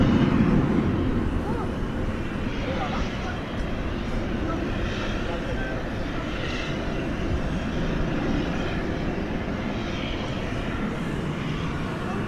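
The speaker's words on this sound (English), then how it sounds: "There's the A300 waiting its turn to take off" An Airbus A300 jet at DFW Airport waiting its turn to take off, its engines a steady broad roar at moderate distance, running continuously with faint talk mixed in.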